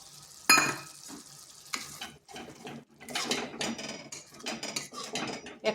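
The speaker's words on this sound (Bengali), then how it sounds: "একটু ভালোভাবে মিশিয়ে নিচ্ছি।" Cashews and poppy seeds are stirred in a pan with a metal spoon, giving irregular scrapes and clinks over a soft sizzle, close by and fairly quiet, with no voices.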